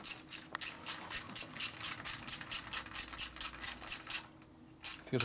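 A Harley gear ratchet with coarse teeth clicks in a fast, even series of about fifteen sharp close clicks, then pauses briefly before two more clicks.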